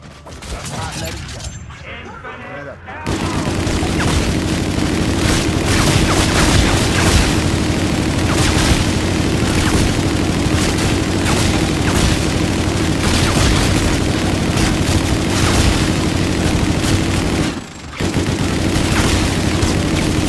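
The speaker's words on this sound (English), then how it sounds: "I love how fast this minigun shoots." A video game minigun fires with infinite ammo in a dense, unbroken roar of rapid shots, loud and sustained, with one brief pause near the end.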